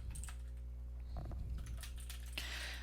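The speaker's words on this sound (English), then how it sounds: "I got this keyboard to show you guys next, or I have this keyboard" Typing on a computer keyboard at a desk setup, a steady run of close, soft key clicks continuing through the clip, with a brief louder burst near the end.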